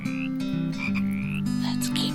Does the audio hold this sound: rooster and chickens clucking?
no